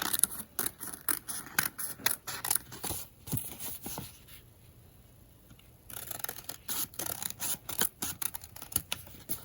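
Scissors cutting out a paper face mask template, with rapid, crisp snipping strokes up close, a brief quiet pause partway through, then the steady run of snips resumes.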